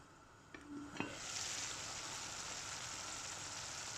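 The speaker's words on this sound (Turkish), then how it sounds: "burada iyice pişene kadar kaynayacak arkadaşlar" Mung beans (maş) boil in a pot for Iğdır-style pilaf, a steady bubbling hiss that swells after a couple of soft knocks and then holds level and close for the rest of the stretch.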